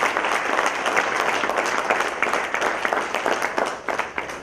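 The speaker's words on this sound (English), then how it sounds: "Big round of applause for all of you." Conference audience applause after presentations at an employees' welfare gathering, many people clapping steadily and loudly, with sharper individual claps standing out toward the end.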